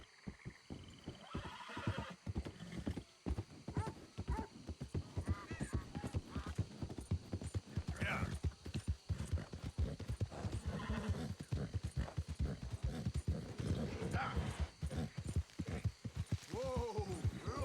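Horse in the PC game Red Dead Redemption 2, with quick, dense hoofbeats pounding throughout and loud whinnies and snorts breaking in, fairly close, with a few voices speaking now and then.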